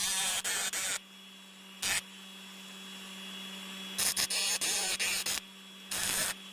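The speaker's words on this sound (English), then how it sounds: "So now we're going to grind the tips of these screws off" Screw tips ground off for a table saw insert plate on a Delta 10-inch contractor saw: a handful of short, harsh bursts of abrasive grinding in uneven clusters, separated by gaps where only a steady electrical hum remains, with no talking.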